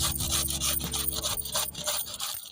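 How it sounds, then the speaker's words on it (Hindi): Cabbage being grated by hand for momos, a steady run of rough rasping strokes, close and fairly loud, repeating without pause and with no talk. "सारा बंद गोभी हम ऐसे घिसेंगे"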